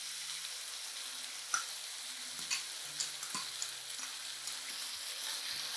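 Nopales frying in olive oil with tomato and cilantro are stirred in a pan, giving a low continuous sizzle and scattered light scraping clicks from the spoon, close but quiet, with no voices.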